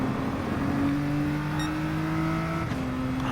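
A Nissan race car's engine in a racing video game at the Nurburgring, holding a loud steady drone that climbs slowly in pitch, then drops with a quick upshift as the driver short shifts.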